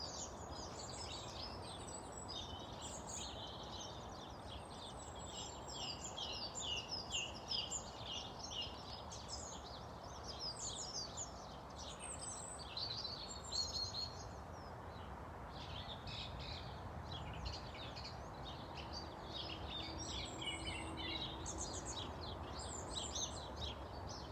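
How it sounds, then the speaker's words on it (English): Birds chirp and call outdoors, a faint scatter of short high notes repeating over a steady background hiss for the whole stretch. "Can you hear the birds?"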